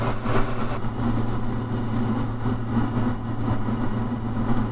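Diamond DA40NG light aircraft engine runs at takeoff power, a steady heavy drone heard from inside the cabin with no talk over it.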